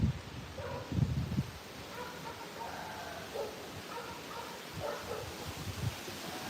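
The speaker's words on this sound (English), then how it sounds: "You can literally hear the gushing sound of the wind as it filters through." Strong wind gusts through leafy trees on a very windy, sunny day, a steady broad rushing with swelling surges and faint bark-like sounds in the background.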